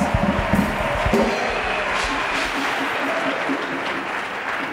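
A church congregation applauds in praise of Jesus Christ, a loud dense clapping that opens with a few heavier claps and then holds as a steady wash, with voices mixed in beneath.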